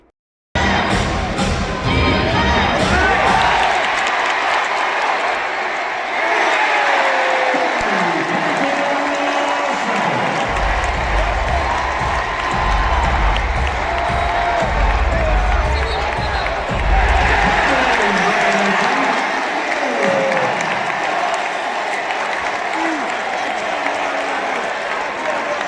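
Basketball arena crowd at a Warriors game against the Boston Celtics roaring and cheering wildly during a comeback run, loud sustained applause, shouts and whoops that surge and swell for the whole stretch.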